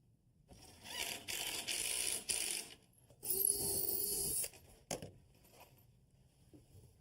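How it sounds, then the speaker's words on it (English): Screws being driven with a power drill into a wooden shelf during a cabinet build, heard as several loud, sustained whirring bursts of a few seconds each with short pauses between them, close by. "now I'll put a couple screws in here"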